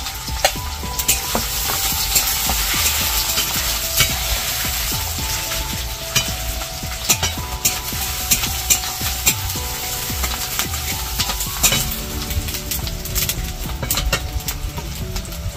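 Chopped onion and garlic fry in a pan for masala palak paneer, a loud continuous crackling sizzle with frequent sharp spatters and spoon scrapes close by, with no voice over it.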